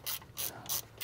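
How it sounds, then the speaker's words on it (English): An E10 ratcheting wrench turns the oil filter housing bolts on a BMW N20 engine in an F30 328i, giving four evenly spaced, crisp ratcheting clicks, close and clear, with no talk. "with this E10 ratcheting wrench, it makes it a little bit easier"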